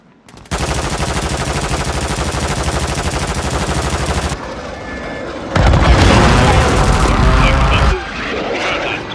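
Rapid automatic gunfire in Call of Duty MW3 Warzone, a long sustained burst followed by louder, denser shooting with booms, close and loud, with a voice speaking briefly at times.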